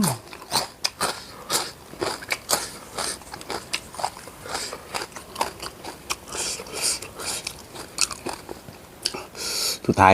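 Close-up crunchy bites and chewing of spicy Thai papaya salad with squid, pork sausage and crispy pork rinds, in sharp irregular crackles and crunches right by the mouth with no talking.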